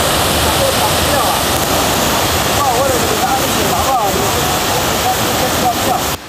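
A mountain stream swollen by typhoon rain rushes loudly and continuously nearby, and a voice talks over the torrent.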